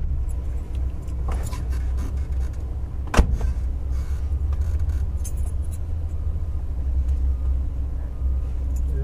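A 1959 Chevrolet idles with a steady low rumble, heard close from inside the car, with a brief sharp click and some jingling over the engine note.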